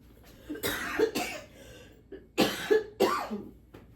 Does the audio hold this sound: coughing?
yes